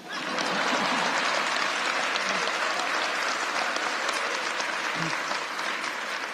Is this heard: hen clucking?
no